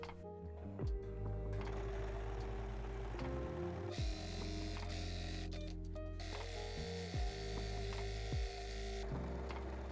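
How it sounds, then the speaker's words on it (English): Sewing machine stitching fabric pieces for a bowl cosy, running in several bursts with short pauses between, a steady motor whir and rapid needle chatter, close by with no talking. "pair them up so I can sew them right size together"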